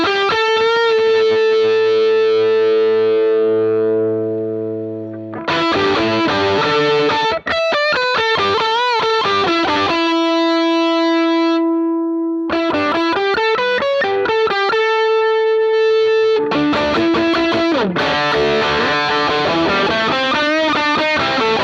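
Distorted electric guitar plays a rock song through an amp, loud and continuous, with sustained chords, choppy palm-muted stabs and sliding riffs across the clip, no voices.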